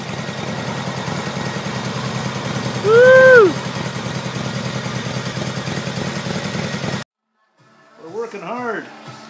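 A car engine rumbles loudly and steadily for about seven seconds, swelling briefly partway through, with a person talking over it; after a short gap, speech continues alone.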